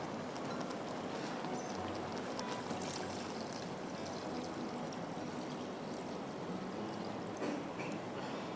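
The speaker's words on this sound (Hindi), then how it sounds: "इसके अंदर मैं पानी डाल दूँगी थोड़ा" Water is poured into mutton cooking for mutton mandi, a continuous steady splashing stream that runs at an even level throughout without talk.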